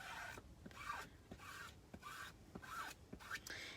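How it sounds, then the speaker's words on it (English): A squeegee scrapes excess chalk paste off a stencil in quick, repeated soft strokes, a close, faint rasping rhythm with light taps between passes. "I'm going to just squeegee up the excess"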